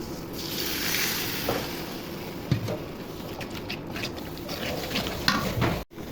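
Turmeric, chili, coriander and salt paste cooks with a splash of water in a pan, bubbling and sputtering softly while a spoon scrapes and stirs in uneven strokes, close by and without speech.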